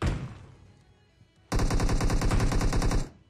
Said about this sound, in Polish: Ej, ale jak mnie zdjął z tej pompy, widziałeś? Dwa strzały i po mnie.